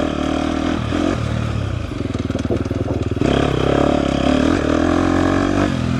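2024 KTM 250 XCF dirt bike ridden off-road in third gear, its engine close and loud, lugging with a rapid pulsing beat, then revving up and holding steady.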